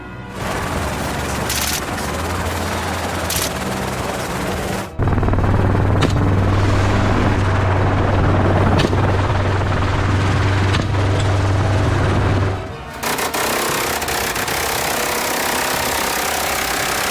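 Helicopter engine running loud and steady during a wild hog hunt in the United States, with a deep low rotor drone that swells near in the middle, mixed with bursts and thuds like gunfire.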